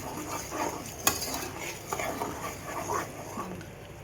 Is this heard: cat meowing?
no